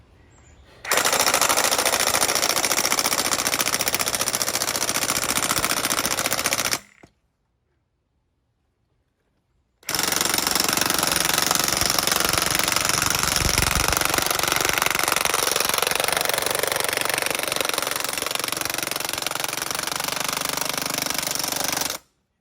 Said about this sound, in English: We got the 1 inch impact. We're just gonna send it home.